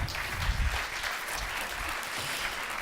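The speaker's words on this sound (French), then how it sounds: "on peut l'applaudir" A crowd claps steadily, a dense patter of applause that holds an even level throughout.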